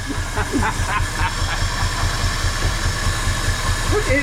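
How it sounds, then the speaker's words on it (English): A 1968 Ford F100 Ranger's V8, long abandoned, idles roughly on only two of its eight cylinders: a steady, loud, uneven low chugging with a hissing edge, while voices talk faintly over it. "That thing's idling on 2 cylinders."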